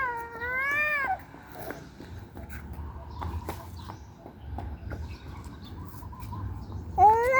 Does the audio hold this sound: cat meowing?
yes